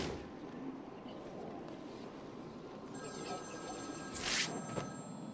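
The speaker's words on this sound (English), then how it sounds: "Ring. Find my phone, Batman." A telephone rings in the video game Batman: Arkham City, its bell sounding over a dense, rumbling game ambience, with a brighter burst of ringing near the end.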